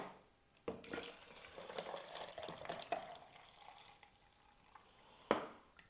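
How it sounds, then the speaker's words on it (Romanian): About 600 ml of water poured into a shaker for a drink, a soft close splashing stream lasting several seconds with a clunk at the start and another near the end. "Adăugăm 600 de ml de apă."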